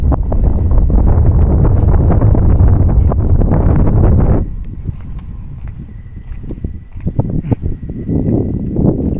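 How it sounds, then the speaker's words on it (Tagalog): Heavy wind buffeting a microphone, loud rumbling gusts for the first half, then dropping to a quieter, fluttering blow that swells again near the end. "Malakas yung hangin"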